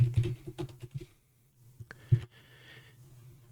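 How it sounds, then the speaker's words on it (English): Keys tap on a computer keyboard in a quiet room, a quick run of close clicks, a pause, then a few scattered keystrokes. "And in here, I'll type my site information."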